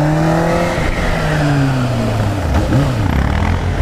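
A newly bought motorcycle revs steadily up close, its engine note rising and falling with a brief dip near the end, loud and with no voices over it.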